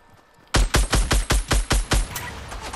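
Automatic gunfire in the video game Fortnite, a loud burst of about eight rapid, evenly spaced shots, close and punchy, fading into a brief tail.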